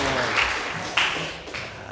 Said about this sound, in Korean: 박수 한번 해주시고